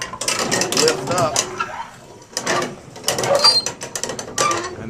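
An old chain pulley fixed to a barn roof rattles and clanks in bursts of metallic ratcheting while it runs, close by and fairly loud, with a person talking intermittently over it.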